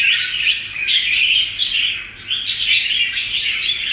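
A songbird chirping close and loud in a continuous run of bright, repeated tweets, with no talk.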